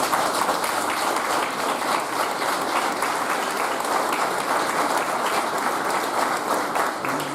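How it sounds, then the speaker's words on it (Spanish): Dense, steady applause from an audience at an institute inauguration, a thick continuous roar of many hands clapping at even loudness for several seconds, with no voices on top. "Nos estamos aplaudiendo entre nosotros"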